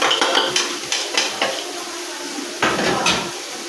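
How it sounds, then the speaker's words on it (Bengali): Turmeric, cumin paste and salt fried with onion and chili in a pan, close metallic scrapes and taps of a spatula in uneven bursts over a soft sizzle, a brief lull, then another burst of stirring. "হলুদ, জিরে বাটা, হলুদ আর লবণটা কষিয়ে নিই"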